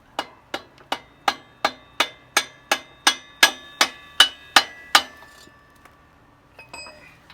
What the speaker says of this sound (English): Use to hammer this the rest of the way through.